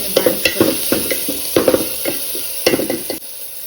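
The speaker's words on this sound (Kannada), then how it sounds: "ಆಮೇಲೆ ಬಾಡಿಸ್ಕೊಳ್ಳಿ" Green chilli, salt and turmeric sautéing in a pan sizzle loudly up close as a utensil stirs and scrapes in quick, repeated strokes.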